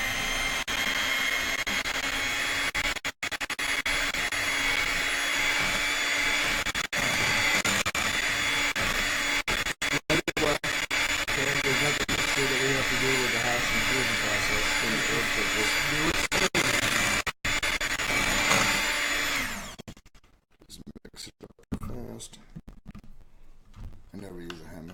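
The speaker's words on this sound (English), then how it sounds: "A hand mixer works just fine." An electric hand mixer beating cupcake batter whirs in a loud, steady drone with a few brief cutouts, then stops near the end, and a voice talks over it.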